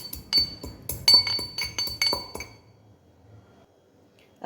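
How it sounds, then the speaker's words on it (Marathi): Cinnamon and sugar are pounded in a mortar with a pestle, a quick run of about eight sharp ringing clinks in uneven rhythm that stops after a couple of seconds, leaving near silence. "आता हा मसाला छान असा कुटून झाला"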